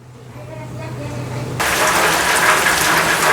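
Steady afternoon rain pours down at a chili pepper farm, a dense hiss of falling water that starts moderate and suddenly grows louder and heavier partway through.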